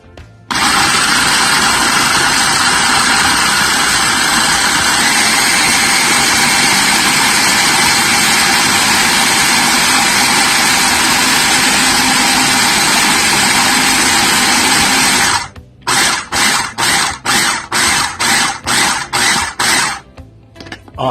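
A food processor blends a jerk chicken marinade with cooking oil, its motor whirring loudly and steadily at close range, then cutting into a rapid series of short pulsing bursts near the end.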